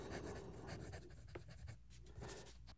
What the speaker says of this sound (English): I want to talk you through it and do a little bit of writing